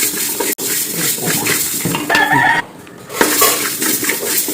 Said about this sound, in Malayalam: അപ്പോൾ അത് നന്നായിട്ടൊന്ന് ഇളക്കി കൊടുക്കുക.